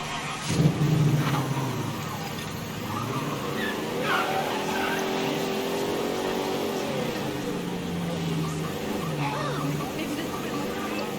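A car in Mafia 3 revs and accelerates, its engine rising and falling in pitch, with a tire screech near the start and someone talking over the driving.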